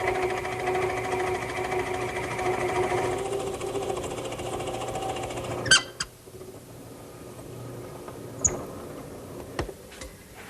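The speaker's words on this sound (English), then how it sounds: "And I'll do all that at the drill press." A drill press bores holes in wood for a turned post bed, the motor whirring steadily before cutting off, followed by a few sharp clicks and knocks in the quieter workshop.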